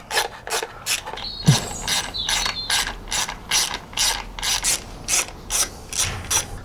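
Ratchet wrench clicking steadily as clutch bolts are undone on a Triumph Speed Triple 1200 RS engine, close up, in repeated short bursts of rapid clicks with brief pauses between strokes.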